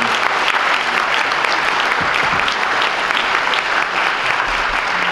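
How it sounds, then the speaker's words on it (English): Elementary school audience claps for a star student at a recognition ceremony, a dense, steady round of applause lasting throughout with no speech over it. "Especially, we want to give a big round of applause to our star student today, Tiara Taylor."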